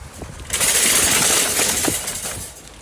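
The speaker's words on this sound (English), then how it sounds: "There's a wind here." High winds blowing outdoors in Kern County, a broad roaring gust that swells after a half-second of quieter air, holds steady and loud, then slowly eases off.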